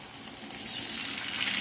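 Water poured into a pan of fragrant fried spice paste for Indonesian semur tempe (tempeh stew) sets off a loud, steady close-up hiss that swells after a brief quieter frying sizzle.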